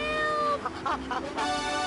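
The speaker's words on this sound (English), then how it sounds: "Rescue a cat out of that tree with your banana cannon, Pogo." A cartoonish cat in a video game lets out a couple of drawn-out meows over a steady musical backdrop, close and clear.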